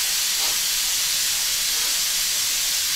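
Steam hisses loudly and continuously as pressure is vented from a cooker of Bisaya-style humba pork, a steady rushing sound with no other noise.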